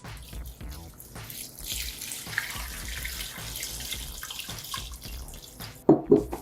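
Water streams steadily into a pot with a hollow splashing rush, ending in a few louder clanks and splashes.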